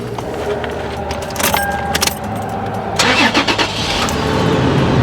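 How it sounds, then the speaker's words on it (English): A Toyota 4Runner engine starting up, with keys jangling at the ignition before the motor catches, cranks and settles into a steady mid-pitched idle, heard close in the cabin. "First, start the vehicle."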